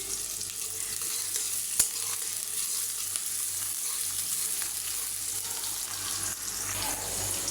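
Chopped onion, green chili, ginger and garlic frying in oil, a steady moderate sizzle with occasional stirring clicks, no voices.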